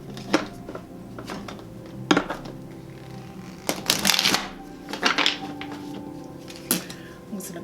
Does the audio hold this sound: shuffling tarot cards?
yes